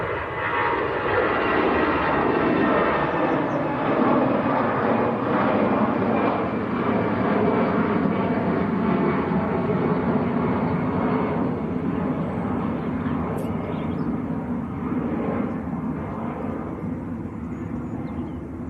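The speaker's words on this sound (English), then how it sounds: "Aer Lingus A320 going back to Dublin." An Aer Lingus Airbus A320 departs Manchester Airport for Dublin, a loud, steady jet-engine roar with a broad rushing texture that persists throughout and tapers slightly toward the end.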